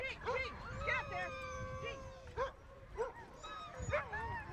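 Sled dogs on a polar expedition, stranded weeks in Punta Arenas, bark in short bursts and whine with high, wavering whimpers, several animals close by and restless over a steady windy background.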